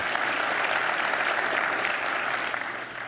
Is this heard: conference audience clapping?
yes